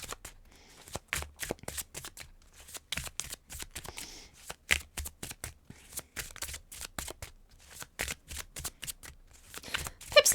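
Tarot cards being shuffled by hand in repeated crisp riffling bursts, close and fairly loud, with brief pauses between passes and no talking over them.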